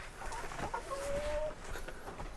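Chickens cluck in a farmyard coop, a run of short squawking calls over a steady outdoor background with one longer drawn-out note in the middle, fairly close and alone with no talk.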